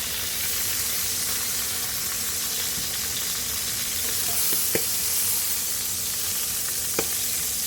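Chicken frying in a pot of chicken fat and oil, a loud, steady broadband sizzle with a few sharp pops and crackles, close up, with no voices.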